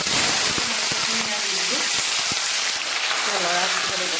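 Hot oil sizzles and crackles steadily in a pan while meat is fried for a spice-free meat dish, a loud continuous frying hiss close to the microphone, with a few stirring clinks and a voice talking over it.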